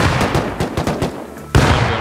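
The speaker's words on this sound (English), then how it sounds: "Still chucking nades from top" Grenade explosions boom in Rust, a series of sharp thuds through the first second and a half, then a heavier, louder blast near the end.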